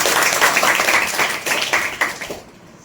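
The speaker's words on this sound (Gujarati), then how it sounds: "એકવાર ફેનીને પણ એની મહેનત માટે આપણે વધાવી લઈએ તાળીના ગગડાટથી" An audience at a student toppers' felicitation event claps for a top-scoring student, a burst of dense crowd clapping that swells in waves and then fades out near the end.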